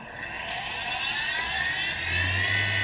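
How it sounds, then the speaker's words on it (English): A 500W brushless motor spindle running on a 24-volt supply gives a loud, steady high whine that builds slightly as it settles, with a faint low hum joining near the end and no talk. "So now I've connected the 24 volt power supply, and we'll turn it on."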